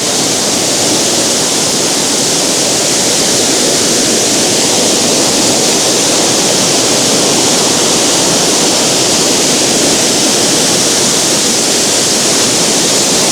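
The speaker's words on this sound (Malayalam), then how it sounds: "ഇങ്ങനെ ഒരു വെള്ളച്ചാട്ടം" The waterfall at Ezhattumugham near Athirappilly gives a loud, constant broadband roar of rushing water, unbroken and close.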